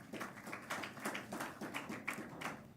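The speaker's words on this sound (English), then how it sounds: "Let's give them a good clap." A crowd applauds at a skills competition event in Kenya, a steady patter of many hands clapping at moderate distance, sustained and even without any voices.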